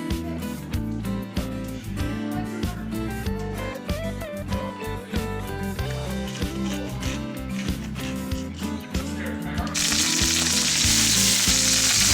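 Pepper frying in a little oil in a home kitchen pan, mostly buried under loud music and singing at first, then a bright, close, steady sizzle rises clearly over the last couple of seconds.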